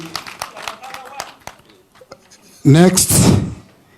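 A short burst of audience applause for a county assembly Deputy Speaker breaks out near the end, lasting under a second, after scattered knocks and thuds.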